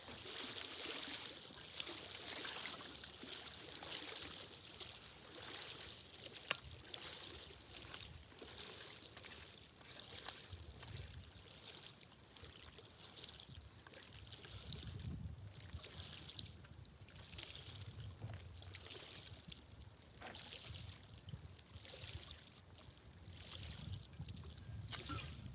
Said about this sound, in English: Getting a little bit of some waves here.